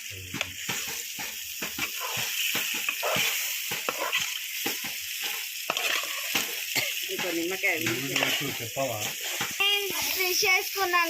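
Fish curry being stirred and fried in a pot on a wood-fired stove, with a steady sizzle and scraping stirs while a child and others chatter over it.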